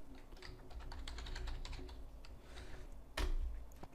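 Fingers typing a password on a computer keyboard, a quiet run of rapid light key clicks ending in one firmer keystroke, close and faint over a low room hum.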